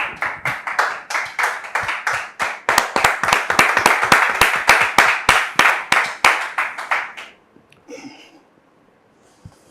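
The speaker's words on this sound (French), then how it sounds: "le pasteur Haché, que nous recevons sous vos applaudissements." A small studio audience welcomes a pastor with rhythmic, evenly spaced clapping, loud and close, speeding up slightly before stopping abruptly, followed by faint movement and quiet.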